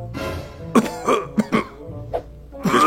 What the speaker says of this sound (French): Quelqu'un a toussé dans la salle?